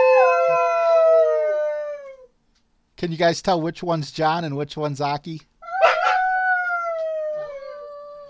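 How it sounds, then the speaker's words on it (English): Two dogs howl in long, wavering, rising-and-falling cries, with a pause and a choppy, yodeling stretch in the middle, close and loud, while a person talks over part of it. "I love that howl. Oh, he's throwing his head back like a wolf"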